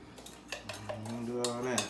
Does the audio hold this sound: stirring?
yes